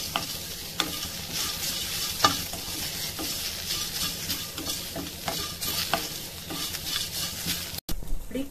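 Curry leaves stir-fried in a pan for spiced rice powder, crackling and sizzling steadily with repeated scraping stirs, close and moderately loud, with no talking.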